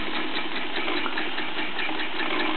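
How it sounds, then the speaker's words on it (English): Bowman M101 engine running steadily with a big long-stroke piston chuffing and a counter shaft whirring, a continuous busy mechanical texture at even loudness with no voices. "You can hear the whirring of the counter shaft and just the chuffing of that big long stroke piston."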